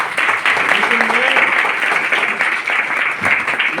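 Audience applause in a hall during a Hindi motivational talk on freedom fighter Udham Singh, a broad steady wash of clapping lasting throughout with speech faintly mixed in.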